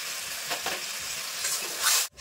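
A spice paste with tomato, salt and turmeric fries in a pan with a steady close sizzle, brief stirring scrapes and a louder hiss just before it cuts off.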